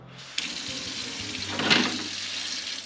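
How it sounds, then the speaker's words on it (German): Hot water runs from a tap in a basement as a steady close rush that swells briefly near the end before settling back. "Heißes Wasser."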